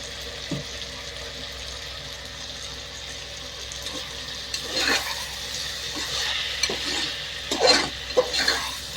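Quiet scraping and stirring in a pan with faint sizzling as ingredients for broad bean and split moong dal rice are sautéed, a few louder clinks and scrapes toward the end, no voices.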